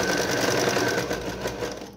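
A domestic sewing machine runs steadily in reverse stitch, its motor and needle making a loud, close, continuous whirring hum with no pauses and no voice over it.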